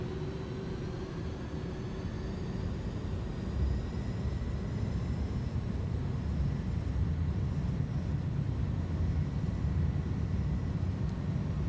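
Airbus A310 jet engines spool up to takeoff thrust in a flight simulator, giving a steady, broad roar with a faint high whine that holds level throughout, with no talk.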